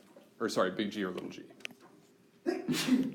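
A single sharp sneeze near the end of a college genetics lecture, a short breathy burst that follows a stretch of a lecturer talking.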